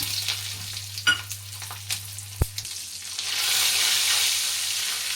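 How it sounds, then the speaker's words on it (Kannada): Mustard seeds, cumin, Byadagi chilies, garlic, curry leaves and a pinch of asafoetida hit hot oil for tempering drumstick sambar, giving a few sharp pops and crackles, then a steady close sizzle. "ಎಣ್ಣೆ ಕಾತಿದೆ. ಈಗ ಒಗ್ಗರಣೆ ಹಾಕೊಳ್ಳೋಣ"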